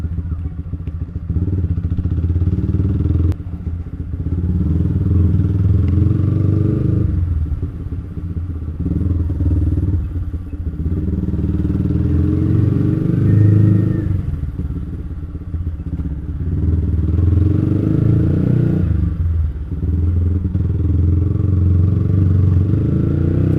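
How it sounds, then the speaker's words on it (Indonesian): A motorcycle fitted with a JB159 trioval exhaust revs repeatedly, deep throaty surges rising and falling in several long blips with brief idle dips between them, loud and close. "suaranya tuh kayak motor Vario knalpot standar racing ya"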